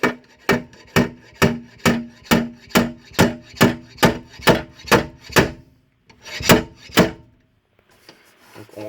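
A slide hammer dent puller pulls a welded pin to straighten dented sheet metal, giving a loud run of about a dozen evenly spaced metallic knocks, then a short pause and two or three more before quiet.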